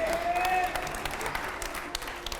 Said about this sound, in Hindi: चलिए जोरदार तालियां हो जाए